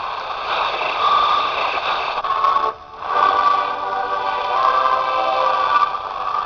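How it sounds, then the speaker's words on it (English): Radio reception of a CD player's audio sent by a short-range, homemade Joule thief transmitter comes through as a steady band-limited hiss and static with muffled sound inside it and one short dropout midway, with no talking. "It's a very short range, only a couple of feet. You can hear the static on it."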